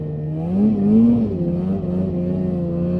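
Polaris Indy 550 snowmobile engine held at full throttle, a steady loud two-stroke drone whose pitch rises slightly, dips, then settles, heard close and alone.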